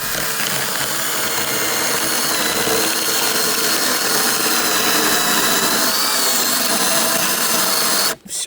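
A jigsaw cuts through 33 mm chipboard with a loud, steady, gritty buzz that runs unbroken for about eight seconds, then stops abruptly.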